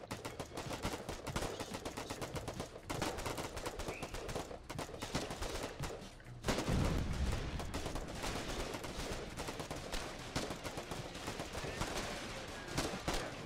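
Dense rapid gunfire rattles through a battle in the war game Foxhole, with overlapping bursts and single shots that grow heavier and louder about halfway through.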